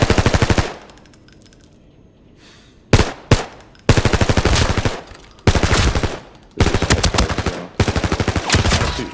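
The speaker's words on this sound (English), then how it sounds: "Shoots 9x19. Comes in fully automatic or semi. Very manageable recoil." Loud, close bursts of full-auto fire from a PP19-01 submachine gun chambered in 9x19 in the game Arena Breakout: Infinite, several rapid strings separated by short pauses, with no talking.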